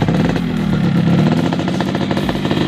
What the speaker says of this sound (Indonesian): kita coba mendengarkan suara mesinnya apakah masih halus atau tidak